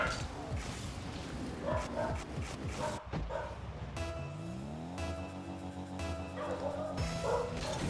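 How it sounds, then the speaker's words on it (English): Dogs bark and yip in a loose, uneven series during a live gaming cash cup stream, with some whimpering and background noise mixed in, fairly close and moderately loud. "The dogs are going to be barking anyways, so I'll just mute up."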